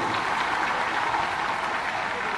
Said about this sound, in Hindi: सभी विद्यार्थियों का एक बार जोरदार तालियां बजाइए इस बात के लिए।